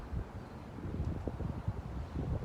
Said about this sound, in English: And it's windy out here, so the ball is moving around on me a little bit.